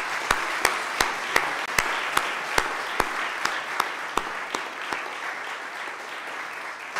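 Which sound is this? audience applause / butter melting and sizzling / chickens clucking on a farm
audience applause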